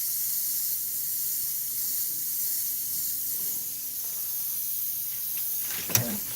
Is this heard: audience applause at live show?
no